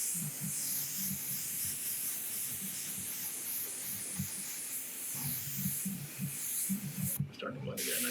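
Paint mists from a spray nozzle onto a Spawning Pool Venom model, a steady airy hiss running continuously under low talk, with one brief pause before it resumes.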